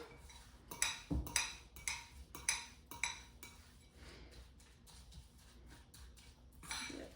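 A fork stirs breakfast cookie batter with oats in a bowl, making quiet, irregular clinks and taps against the dish, several in quick succession then softer scraping, with no voices.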